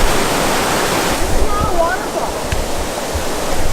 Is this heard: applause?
no